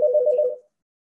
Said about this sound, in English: Y'all probably just heard my phone.